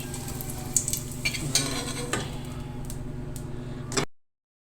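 Hotdogs fry in a pan with a close, steady sizzle and spatter. Occasional scraping or stirring clicks sit over a low hum, and the sound cuts off abruptly before the end.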